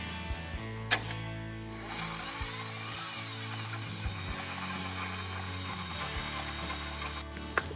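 Lemon ricotta cheesecake filling with lemon juice, lemon extract and stevia is whipped by an electric mixer, a steady close motor whine under light rattling and clicks, starting after a few brief knocks.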